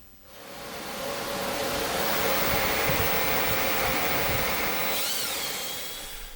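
A wood lathe spins an acrylic pen against a buffing wheel at a little over 1,000 RPM, a steady broad whooshing hum that swells up and holds, close and fairly loud, with no talk.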